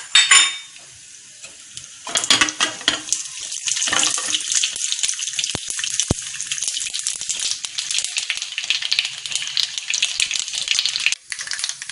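Mustard seeds dropped into hot oil, a quick clatter followed by a steady bright sizzle and popping, close and loud, with light rattling of the pan.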